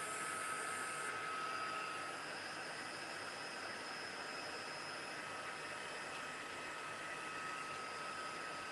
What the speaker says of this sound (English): Just going to get it to dry because I've got the vellum and I don't want it to crimple up.